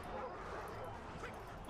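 War hounds from Boudica's hound handler unit in the Total War Arena video game bark and yip amid a dense, loud battle din, with a voice talking over it.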